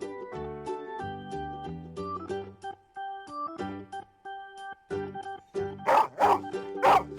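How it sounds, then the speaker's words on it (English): A dog barks a few short times near the end over a bouncy nursery-rhyme tune about farm animals, the barks loud and close against the music. "Dog."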